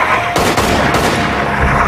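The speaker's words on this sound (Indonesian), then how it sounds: "Namun tiba-tiba ada bom ranjau meledak." A landmine blast in a Van Helsing film erupts as a sudden, loud broadband burst against a dense, noisy soundtrack, followed by rumbling debris and a second, weaker crack.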